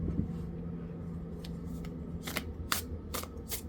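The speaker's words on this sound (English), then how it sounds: "Let's go ahead and pull another card." Tarot cards are shuffled and pulled from a deck, with a series of quick, crisp flicks and slides close by over a low background hum.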